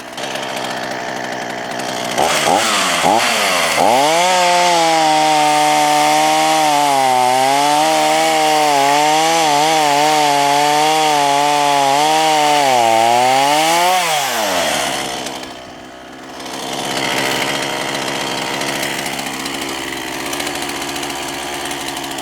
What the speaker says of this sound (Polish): Pilarka spalinowa PN3800.